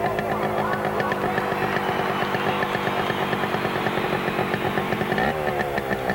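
Motorcycle engine revving hard inside the steel Sphere of Fear globe, a loud, continuous buzzing whine that rises and falls as the rider loops, with a brief dip in pitch near the end.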